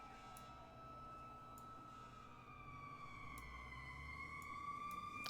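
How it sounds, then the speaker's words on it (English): Siren sound effects wail in long, slowly falling and rising tones over a low rumble of traffic, moderately distant and continuous, during a tabletop role-playing game session. "can y'all hear the sirens and everything?"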